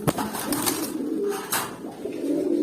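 A male pigeon with deep blue eyes coos repeatedly at close range, low rolling calls broken by sharp clicks and rustling bursts.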